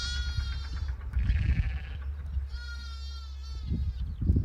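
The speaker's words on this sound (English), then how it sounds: "They're goats, love." Goats bleat close by, several long wavering cries one after another with brief gaps, loud and nasal over a low background rumble.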